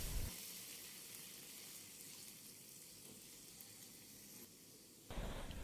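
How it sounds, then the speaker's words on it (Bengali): Chopped onion frying with ginger-garlic paste and green chillies makes a soft, steady hiss and sizzle in the pan, fairly faint and even, with a brief louder shift near the end. "হাফ চামচ আদা ও রসুন বাটা দিয়ে পেঁয়াজের সাথে কিছুক্ষণ ভেজে নেব।"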